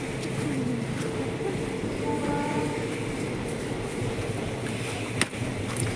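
A train rumbles steadily past near a railway station by a home, a continuous loud roll of wheels on track with a single sharp clank near the end.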